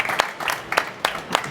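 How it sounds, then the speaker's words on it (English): Brief applause from a conference audience for speakers on a panel, light scattered claps at a modest level. "a big applause for the speakers"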